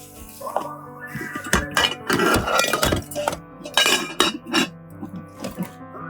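Metal clinks and clatters from a Guardian cookware pot and its ill-fitting lid being handled, several sharp clanks in quick bursts, close and fairly loud, with no talking.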